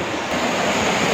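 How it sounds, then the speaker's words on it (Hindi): A continuous broadband rush of water flowing under a water mill in Chamba, Himachal Pradesh, fills the whole moment. It is loud and steady, with no voices. "इसमें पानी का भी आवाज़ आ रहा है।"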